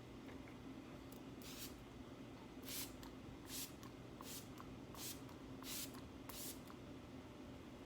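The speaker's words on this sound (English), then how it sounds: "set it with a Smashbox Photo Finish setting spray" Short hissing spray bursts from an aerosol can of Smashbox Photo Finish setting spray, about seven in a row, each a quick puff of mist against a quiet background hum.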